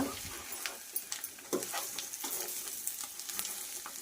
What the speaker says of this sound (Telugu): ఇందాక సైడ్కి పెట్టుకున్న చికెన్ ముక్కలు అయితే వేసేసింది. ఇప్పుడు మొత్తం కలయబెట్టుకోవాలన్నమాట.